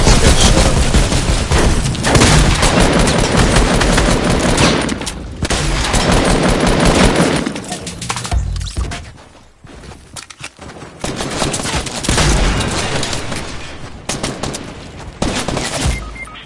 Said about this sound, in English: I'm already shooting at someone, dude.